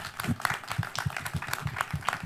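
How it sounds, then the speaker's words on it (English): An audience applauds a panel at an art school open house photography and video presentation, a dense steady patter of many hands clapping throughout, with a few louder individual claps standing out. "can we have a round of applause for our amazing panel, too?"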